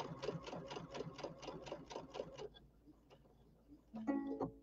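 A Brother Luminaire sewing machine stitches in a fast, even rhythm of rapid needle thumps for a couple of seconds, stops, then gives a short mechanical whir and beep-like tones.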